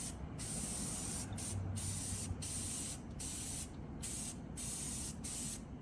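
Green spray paint hisses from a can onto a welded rebar Christmas tree in close, steady bursts separated by brief pauses.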